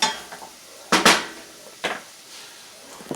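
A spoon works through homemade marinara sauce in a pot, giving three short scraping clanks against the metal, separated by quiet pauses.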